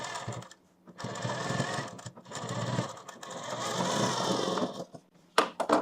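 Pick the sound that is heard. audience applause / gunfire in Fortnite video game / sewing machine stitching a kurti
sewing machine stitching a kurti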